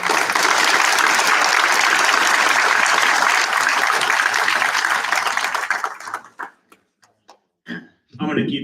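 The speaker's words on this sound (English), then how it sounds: "So let's give him a round of applause." Loud, steady applause from an audience at a township council meeting fills the room for about six seconds, then thins into a few scattered claps and breaks off.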